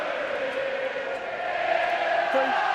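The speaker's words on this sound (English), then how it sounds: "But the Saints fans roaring because they know their team needs them now" St Helens Saints rugby league supporters roar in a large stadium during a match against Castleford, a steady loud crowd wash with a commentator talking over it.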